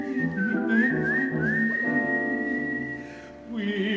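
A whistled tune from an art song by Charles Ives, clear gliding notes rising and holding over a soft sung vocal and piano accompaniment, a melodic line that dips away near the end.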